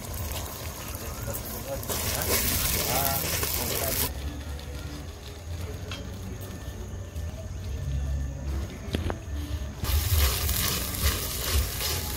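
Spiced water poured into a pan of hot oil with ginger paste, a loud burst of hissing sizzle that settles into steady frying and bubbling, with a voice speaking over parts of it.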